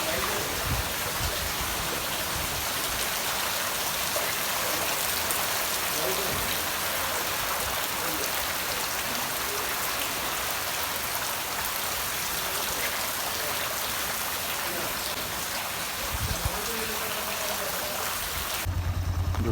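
Heavy cyclone rain and rushing floodwater in flooded Jaffna streets, a dense, loud, unbroken wash of falling and flowing water that fills the whole stretch.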